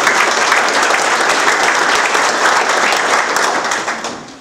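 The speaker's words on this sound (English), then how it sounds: "Let's give them a round of applause." Loud, close audience applause at a Lincoln/Reagan political dinner, a thick, sustained roar of many hands clapping for officials that holds steady and then trails off at the end.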